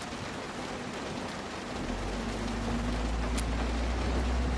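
Rain falling in the video game Road 96, a steady hiss of dense drops that swells slightly with a low rumble building underneath toward the end.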